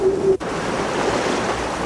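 Sea waves surging against the coast, a steady broad wash of surf with a brief dip early on, fairly loud and without voices.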